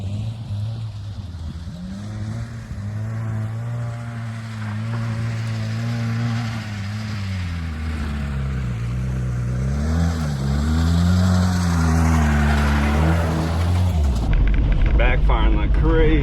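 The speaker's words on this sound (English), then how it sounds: "Backfiring like crazy." Engine of an old Mitsubishi-built Dodge Ram 50 pickup, abandoned for over a decade, revving hard with steady low harmonics that rise and fall, then a rough burst near the end; loud and close, with talk over it.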